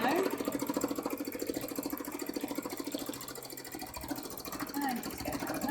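A sewing machine runs steadily up close, its rapid, even needle rhythm building up thread in a continuous mechanical patter, with faint background voice sounds beneath it.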